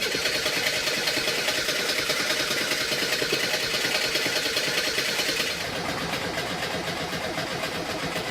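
The engine of a Reliant Robin car cranks repeatedly without catching, making a loud, close, rapid rhythmic churning that drops to a slightly quieter, steadier whir near the end.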